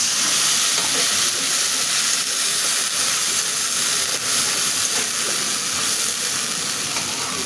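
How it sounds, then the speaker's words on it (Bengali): Water poured onto onion, ginger and garlic frying in a pan sets off a loud, steady sizzle and hiss that fills the whole stretch without speech. "আমি এখন একটু পানি দিয়ে দেব।"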